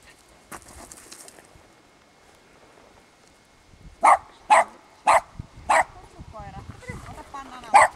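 A dog barks in five sharp, evenly spaced bursts, loud and close, after quieter outdoor rustling, as it is let loose to chase balls thrown along the ground during a dog-sport filming session.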